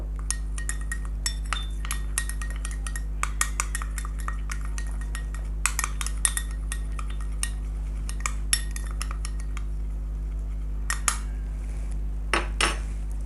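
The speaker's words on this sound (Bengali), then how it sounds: "এখন আমি দুইটি উপকরণ ভালো করে 1 মিনিট পর্যন্ত মিক্স করে নেব।" A spoon mixes a Colgate toothpaste face pack in a small bowl, giving repeated light clinks and scrapes in quick bursts with pauses, close and fairly quiet over a steady low hum, no voices.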